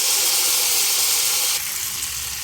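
Chicken laid into melted butter in a hot pan gives a loud, steady sizzling hiss up close, continuous and even throughout.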